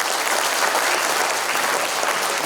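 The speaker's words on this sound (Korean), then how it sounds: "시장님 힘내시라고 큰 박수 좀 부탁드리겠습니다" A crowd at a book launch event applauds loudly and steadily, a dense wash of clapping from many hands filling the room without pause.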